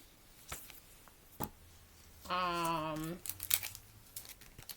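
A notepad from a BTS membership kit is unwrapped, giving brief crinkles and tearing sounds of plastic packaging, close and fairly quiet, with a short voice-like tonal sound in the middle.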